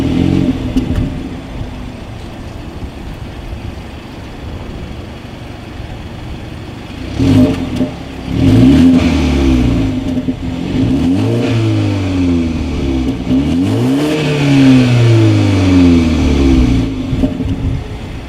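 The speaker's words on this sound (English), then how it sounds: "As always, here is that exhaust clip." A 2019 BMW 330i engine revs repeatedly through its exhaust, rising and falling in loud surging sweeps after a quieter idling start.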